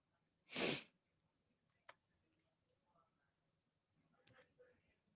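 A single loud, close sneeze bursts out near the start, followed by a few faint clicks and soft breaths in an otherwise quiet room.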